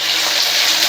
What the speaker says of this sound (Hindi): और इसमें हम पानी ऐड कर देंगे, गोश्त भी हमारा गल जाएगा